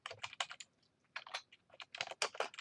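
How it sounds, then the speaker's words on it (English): Someone types on a computer keyboard in short bursts of quick, crisp key clicks separated by brief pauses, close and fairly quiet, with no talking. "now you're ready to start typing"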